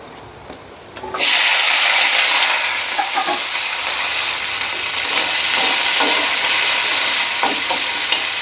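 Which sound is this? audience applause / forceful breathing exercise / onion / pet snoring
onion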